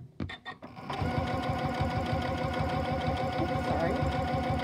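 A sewing machine fitted with a zipper foot stitches a seam on piping, its needle chattering in a fast, even rhythm close by for several seconds after a few opening taps.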